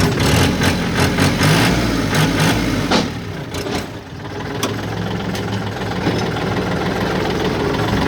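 A Kubota 40 hp tractor engine idling close by, a loud, steady low rumble with a rapid knocking pulse that briefly dips and then settles back to an even drone.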